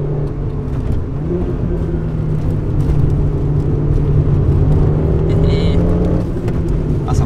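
A Peugeot 106 S16 Rallye engine under full throttle in second gear, revving steadily upward toward 5000 rpm with a rising hum over road rumble, and someone talking over it.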